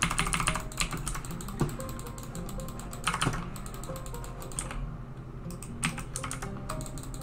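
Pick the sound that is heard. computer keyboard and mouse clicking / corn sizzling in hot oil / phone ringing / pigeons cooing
computer keyboard and mouse clicking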